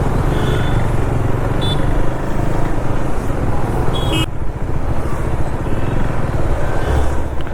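A motorcycle with a dB killer fitted in its exhaust, heard up close while riding, gives a steady, fairly subdued engine drone mixed with constant wind rush.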